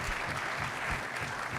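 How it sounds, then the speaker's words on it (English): A short burst of audience applause closing a distinguished lecture on space initiatives, a dense even patter of clapping at moderate level. "One last round of applause."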